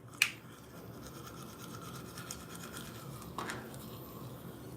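A toothbrush scrubs teeth in a steady, close-up, scratchy rasp with brief sharper strokes, quiet and continuous with no talking.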